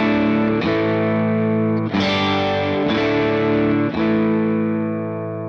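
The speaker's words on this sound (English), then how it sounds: "So here's the Dirty Shirley inside the AXE FX." Heavily distorted electric guitar through a Friedman Dirty Shirley amp model on an Axe-FX 3 plays loud sustained chords, with several re-struck chords ringing out alone.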